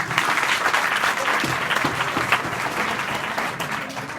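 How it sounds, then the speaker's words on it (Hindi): Students at a girls' higher secondary school break into loud, sustained applause, a dense steady clatter of many hands clapping close by for several seconds. "आप सभी लोग अपने लिए जोरदार ताली बजाएं।"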